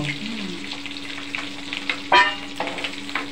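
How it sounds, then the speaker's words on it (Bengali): Potatoes sizzle in a hot frying pan, a steady crackling hiss close up, broken by a few clinks and scrapes of stirring, with no talk. "এটা তো আলু ফ্রাই করছো"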